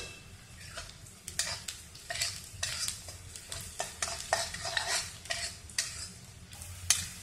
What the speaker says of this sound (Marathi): आता आपला हा कांदा तांबूस रंगावर भाजून झालेला आहे